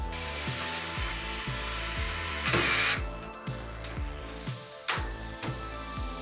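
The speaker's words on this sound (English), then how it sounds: "now we can secure the fan and radiator assembly into the top of the case" An electric screwdriver fastens a fan and radiator assembly into the top of an NZXT H5 Flow PC case, a close run of short repeated ratcheting whirs in a steady rhythm with brief pauses.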